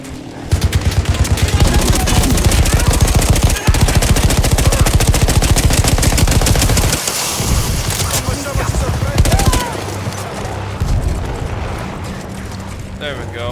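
Sustained heavy gunfire in Battlefield 1, a mounted gun hammering out rapid continuous bursts, loud and close, then easing into scattered shots and battlefield noise.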